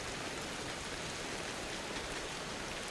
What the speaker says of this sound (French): Il fait que pleuvoir.